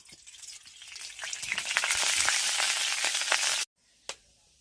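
Spices frying in hot oil for a spicy ear-fish and potato curry, a crackling sizzle that rises and holds steady for a few seconds, cuts off abruptly, then gives one short pop.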